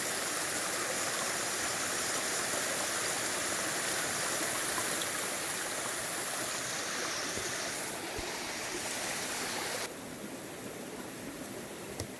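Crystal-clear creek flowing strongly in the Talladega National Forest, a steady close rushing and splashing of water that fills the whole clip, with no talking over it.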